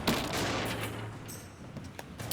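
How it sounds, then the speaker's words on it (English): Cannon fire against a ship in the pirate video game Red Rogue Sea, a rapid cluster of sharp blasts opening loudly, followed by rumbling decay and a few scattered later shots. "one more cannon shot should finish the job"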